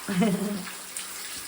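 Water running from a garden hose used as an outdoor shower, a steady broadband rush heard close by and fairly loud through most of the short clip.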